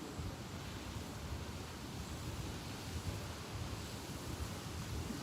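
Geyser at Waiotapu geothermal area in New Zealand erupting, hot water gushing out as a continuous broadband roar and hiss, steady and fairly distant, with no voices.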